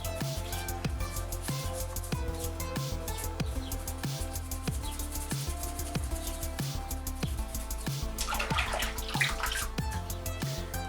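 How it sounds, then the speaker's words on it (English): Resin models are brushed in warm soapy water, giving repeated rhythmic splashing and scrubbing strokes close by, with a brief burst of sloshing near the end. "Warm soapy water is going to really help get rid of any of it."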